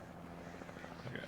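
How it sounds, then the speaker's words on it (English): Helicopter in the video game Alan Wake, a steady low rotor thrum and engine drone filling the scene at a moderate level, with a voice talking over it. "That's the helicopter."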